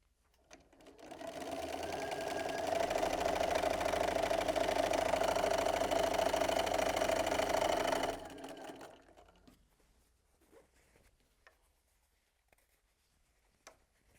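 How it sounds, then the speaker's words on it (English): A sewing machine joins batik fabric scraps in one steady, loud whir of rapid stitching lasting several seconds, then stops, leaving faint handling noises. "I'm going to sew one pair and another pair together."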